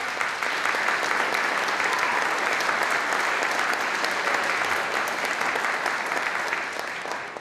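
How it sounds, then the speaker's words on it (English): A crowd at a Veterans Day event in Richmond, California, gives a sustained round of applause, dense steady clapping that continues for several seconds and tapers slightly at the end. "Let's give them a nice round of applause."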